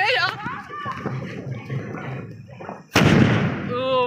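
A sharp, loud bang as a sky shot firecracker explodes partway through, cutting in over excited talking, followed by a brief crackling tail.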